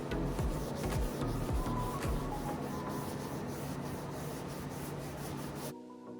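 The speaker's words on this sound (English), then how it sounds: "So I'm just going to rub some of that black wax on" A cloth rubs black wax onto a painted wooden sofa table, producing soft, close scuffing and swishing strokes in an irregular rhythm, quiet and steady throughout.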